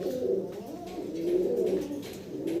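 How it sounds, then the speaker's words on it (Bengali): Two white exhibition pigeons, white Dragons, coo close by in a steady, throaty run of low rolling calls that swell and fade without pause. "খুব চমৎকার দুইটা কবুতর সাদা দবদবা"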